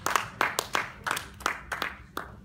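Scattered, fairly faint hand claps from a small audience at a French-language media quiz game, a loose uneven run of distinct claps rather than a full ovation.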